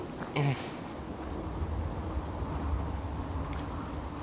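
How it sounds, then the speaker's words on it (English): Steady rain hisses across a ruined wasteland in Fallout 4, a dense, even wash of drops with a low rumbling bed beneath, soft and continuous throughout. "certainly raining quite a bit."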